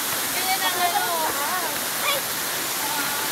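A waterfall roars as a dense, continuous rush of falling water, loud and close throughout, with people talking and shouting over it.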